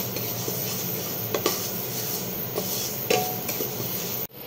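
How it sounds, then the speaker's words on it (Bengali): Moong dal dry-roasts in a pan for daliya khichdi, giving a dense, close rustling hiss broken by occasional spatula scrapes and metal clinks, then stopping abruptly near the end. "মুগ ডালটাও একটু হালকা করে রোস্ট করে নেব"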